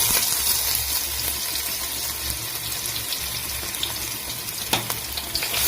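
Crushed garlic and ginger frying in hot coconut oil in a pan, a close, steady crackling sizzle with a low hum underneath and one brief louder pop near the end, with no talk.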